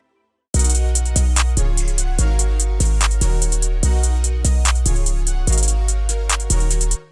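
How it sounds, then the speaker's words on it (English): A deep 808 bass line steps downward through a series of sustained notes, loud and unaccompanied, with a bright clicky tick marking several of the note attacks. "I have even made a new 808 pattern where the notes go down instead of up"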